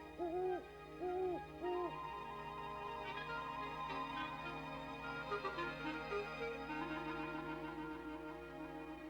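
A great horned owl gives three deep, evenly spaced hoots at the start, then a faint, continuous background of other animal calls follows.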